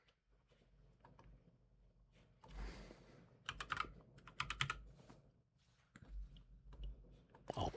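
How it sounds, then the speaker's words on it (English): A password is typed on a computer keyboard, with sparse, close keystrokes that come in short irregular bursts of sharp clicks and taps between quiet gaps, with no talking. "I'm sitting there trying to put my password on the wrong keyboard."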